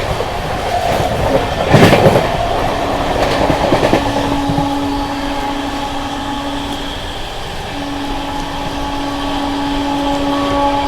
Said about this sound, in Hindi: दोस्तों हमारी ट्रेन इस समय भरवारी को स्किप कर रही है मेन लाइन से 110 की स्पीड पे